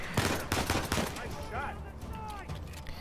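Rapid gunfire from a firefight in the video game Uncharted 4 on Crushing difficulty: dense bursts of close, loud shots in the first second, then thinner, scattered shots with whizzing effects.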